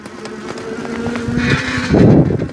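A 750W Engwe Engine Pro folding e-bike gives off a steady close-up vibrating hum with a faint whine, rising into a rougher, louder buzz near the end.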